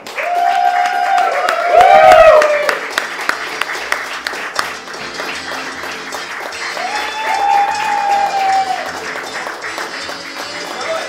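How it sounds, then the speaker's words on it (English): Audience applause and cheering for Lucille Ball at a celebrity roast, a full crowd clapping loudly with some whoops, mixed with voices talking over it as the ovation continues. "big round of applause, Lucille Ball"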